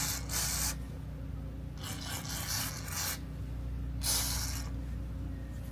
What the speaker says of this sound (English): So you want to give, a couple sprays around.